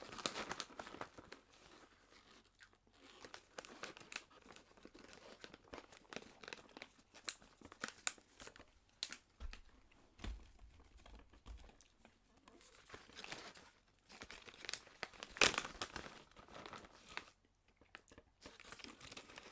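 A resealed bag of gourmet popcorn crinkles and crackles close up as it is worked open, with irregular rustling, tearing bursts and brief louder crunches throughout.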